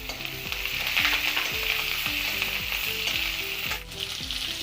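Onions fry lightly in oil for a moringa leaf and green tomato dal, giving a steady, close sizzle and crackle that runs throughout.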